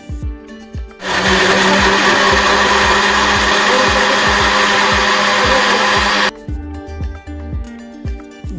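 A mixer grinder blending mango shake whirs loudly for about five seconds, a dense high-pitched grinding roar that cuts off abruptly, with soft background music before and after.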